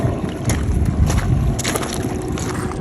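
A Port of London Authority patrol boat engine drones steadily on the River Thames, with wind buffeting the microphone and water sloshing close by in the rain.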